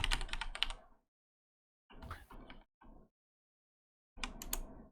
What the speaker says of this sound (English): I hear some aggressive typing.